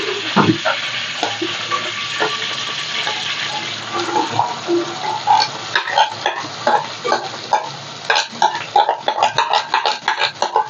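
An onion sizzles and fries in a pan in a modest home kitchen, with steady crackling and scattered sharp pops and stirring clicks close by, growing busier toward the end; no one speaks.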